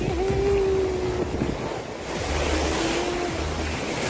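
Ocean surf rolls and crashes at a beach resort in Real, Quezon, a loud, continuous wash of waves with steady wind noise over the microphone and no talking.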